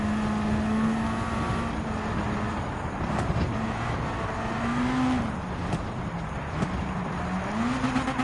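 A race car in Gran Turismo 7 drives on snow on snow tires, its engine droning steadily with pitch rising and falling through gear changes and turns, mixed with a constant crunchy road hiss.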